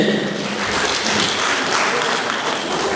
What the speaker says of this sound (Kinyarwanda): amashyi n'impundu tubashimire cyane